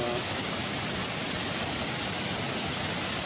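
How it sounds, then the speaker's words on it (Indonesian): Jungle waterfall deep in the Kalimantan forest of Borneo, a steady, dense rush of falling water filling the air close by, unbroken for the whole stretch. "air terjun ini."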